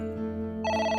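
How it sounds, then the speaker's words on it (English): A telephone rings in the video game AI The Somnium Files, an electronic ringtone with layered tones that brightens and grows louder midway, heard alone. "It's the phone. Maybe try picking it up?"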